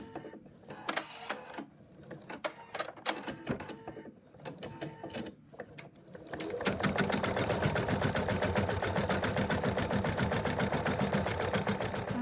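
An embroidery machine stitches the placement line for a cat appliqué. Scattered clicks and knocks give way to a loud, fast, even mechanical stitching rhythm that runs steadily to the end.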